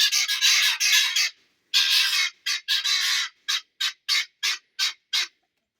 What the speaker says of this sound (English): The guineas are fussing.